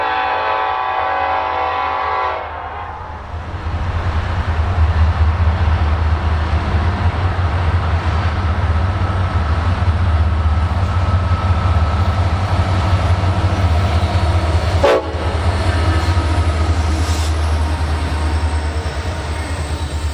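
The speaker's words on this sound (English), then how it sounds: "Another all-EMD consist soon appeared, leading a stack train towards Inman Yard." An all-EMD locomotive consist hauls a double-stack freight train, its heavy low rumble and wheel noise rolling steadily for twenty seconds, with a horn sounding at the start and a sharp clank midway.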